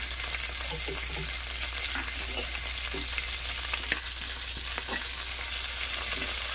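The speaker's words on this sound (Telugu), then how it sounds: "ఇందులో కొద్దిగా జీలకర్ర కొద్దిగా ఫ్రై అవ్వాలండి" Cumin seeds frying in heated oil for a mutton masala curry, giving a strong, steady crackling sizzle up close with faint scattered stirring scrapes and no speech.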